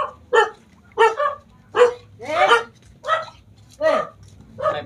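A dog barks repeatedly at a house visit, about seven sharp, evenly spaced barks close by, loud and clear over faint background noise.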